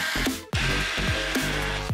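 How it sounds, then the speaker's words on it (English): A power tool whirs in short bursts while removing bumper screws on a 10th-generation Honda Civic hatchback, loud and close, with quick spin-ups, brief pauses and repeated revving. "So let's go ahead and remove these four screws here."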